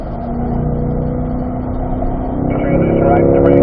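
A C8 Corvette engine drones steadily on a race track, loud and close with a low sustained tone that climbs slightly near the end, heard under a driving instructor's speech.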